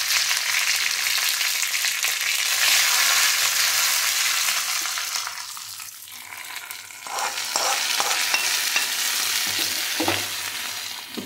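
Dried red chillies and curry leaves tempering in hot oil for a pumpkin moru kulambu (buttermilk curry): a loud, steady close sizzle that dips briefly midway, then returns with sharp crackling pops.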